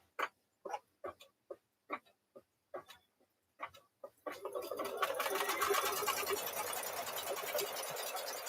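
An embroidery sewing machine stitches a placemat held in the hoop, starting after several sparse clicks and taps and settling into a steady, dense, continuous rapid stitching buzz that runs to the end.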